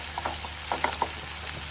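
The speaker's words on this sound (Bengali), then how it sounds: "এটাকে এখন ভালো করে ভেজে নিতে হবে" Onion fries in a pan with dried chili being added, a soft continuous sizzle with a few light stirring scrapes and clicks, close and fairly quiet.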